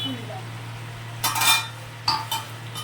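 A metal lid being lifted off a cooking pot of potatoes and soybean curry, giving two or three short clinks and scrapes against a steady low kitchen hum.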